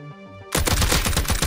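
AK rifle gunfire in the Rust video game, a rapid close burst of automatic shots firing steadily for about a second after a brief quiet start.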